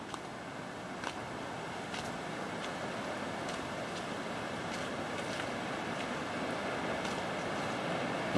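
Belmore Falls in the Southern Highlands roars from a distant lookout as a steady, even wash of broadband noise, unchanging and far off, with faint ticks on top.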